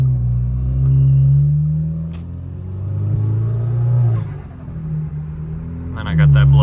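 An Audi, fitted with a blow-off valve, rolls slowly toward a car wash, its engine a low rumbling drone that swells and eases with throttle, while a person talks over it near the microphone.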